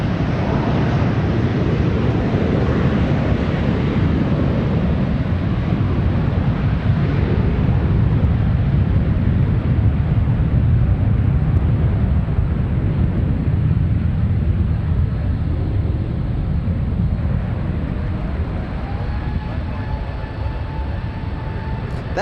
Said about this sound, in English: A321 taking off. That is the CEO, the current engine option.